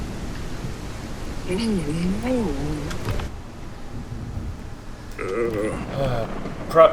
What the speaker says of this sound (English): It's currently raining in the aisle right now. It's very loud.